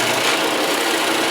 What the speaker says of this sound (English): I'm going to drill everything all at once and hope it stays straight